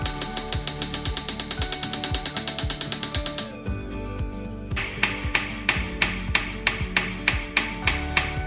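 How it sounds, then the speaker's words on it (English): Steady rapid hammer blows as a hammer face peens a Damascus dagger tang into a steel peen block, a fast even run of sharp metallic strikes, a brief pause, then a slower, ringing series of blows, close and loud. "I actually prefer to use the hammer face rather than its peen because I think it gives me more control."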